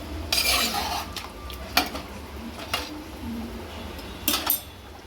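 A spoon scrapes and clinks against a pot in several distinct strokes over a soft background hiss as marinated chicken with a little water is stirred, close and moderately loud, with no voices.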